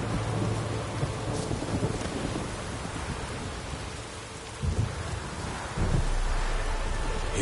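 A thunderstorm in The Witcher 3: Wild Hunt, with constant pouring rain and low rolls of thunder. A couple of heavier rumbles come near the end, and no one speaks.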